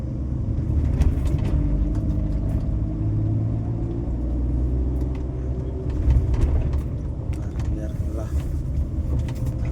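A vehicle engine drones and rumbles heavily as it labours up a very steep road toward a hill temple, steady low loaded hum from inside the cab with faint voices nearby.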